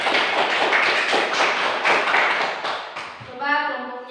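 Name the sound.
classroom applause for a student group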